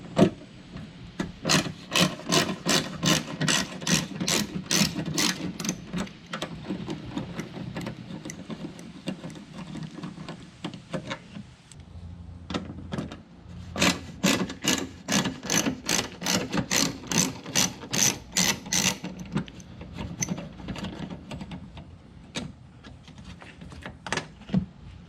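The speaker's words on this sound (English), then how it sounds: "So we'll start taking those screws out. This is an 8mm bolt." A ratchet is unscrewing 8mm bolts on a 2013 Ford Escape with rapid, close clicking in quick runs, pausing between bolts, faint and with no talk.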